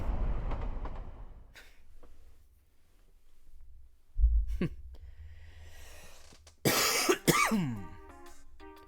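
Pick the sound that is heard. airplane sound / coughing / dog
coughing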